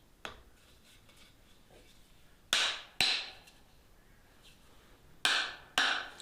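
Hammer blows setting a new handle on a blacksmith's rounding hammer: five sharp, ringing strikes, one early, then two close together and two more near the end, each with a short metallic decay over a quiet room.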